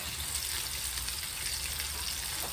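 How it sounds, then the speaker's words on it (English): Pork pieces deep-frying in hot oil in batches for crispy sweet and sour pork, giving a steady, dense, close sizzle that holds evenly throughout with no talking. "So just fry it off"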